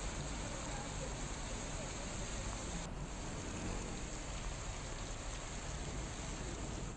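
Heavy rain during a monsoon downpour in Mehsana, Gujarat, a steady, dense hiss that stays loud and unbroken throughout with no pauses.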